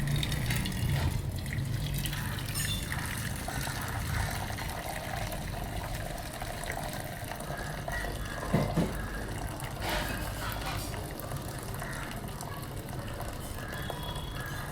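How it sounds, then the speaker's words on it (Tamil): Water pouring and draining from cooked rice in a clay pot over a wood-fired stove, a steady gushing, splashing flow with a brief louder slosh near the middle, close and continuous. "இப்போ சாதத்தை வடிச்சிடலாம்."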